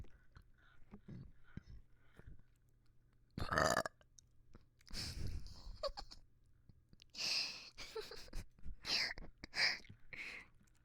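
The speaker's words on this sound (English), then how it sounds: "I'm gonna burp in your ear now." A close, intimate burp right at the microphone in an ASMR setting, surrounded by soft whispering, breaths and mouth sounds, with a few brief louder bursts.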